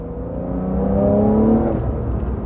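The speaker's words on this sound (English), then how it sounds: "you kind of hear the turbo sound there too" A 2020 Porsche 911 Carrera 4S engine pulls hard under acceleration, its rising drone joined by a steady turbo whir, loud and close from inside the car.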